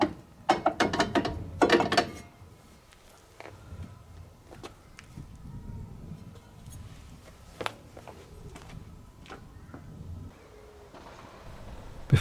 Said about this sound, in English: Next, to remove the brake drum.